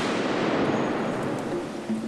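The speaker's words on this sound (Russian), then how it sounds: "Взрываем на счет 3." An explosive charge detonates in a test explosion at an outdoor blast site, heard as a loud, dense burst with a sustained rumbling roar and debris noise filling the short moment, with no talk.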